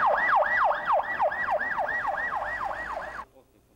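A Korean emergency rescue vehicle's siren wails in a loud, fast rising-and-falling cycle, repeating steadily and close before cutting off abruptly, with traffic rumble beneath.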